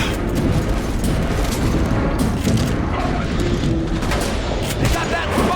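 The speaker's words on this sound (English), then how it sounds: "Take cover, grenade!" A grenade blast in The Bureau: XCOM Declassified rumbles amid a dense, continuous battle din of gunfire and heavy booms, loud and close, with combat voices mixed in.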